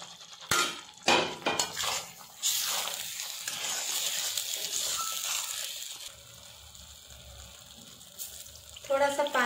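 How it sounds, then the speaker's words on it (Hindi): Fox nuts (makhana) go into a cashew gravy in a pan with a few sharp metallic clatters of a utensil against the pan, followed by steady soft sizzling and scraping. "अब हम इसमें मखाने डालेंगे।"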